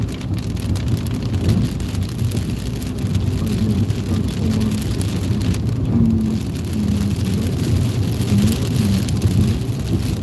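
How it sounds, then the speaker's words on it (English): Hail and wind battering a car during a severe storm on Highway 3 in Indiana, a dense, continuous roar of pelting and rushing air, loud and close, with no talk. "This storm has a lot of hail, a lot of wind."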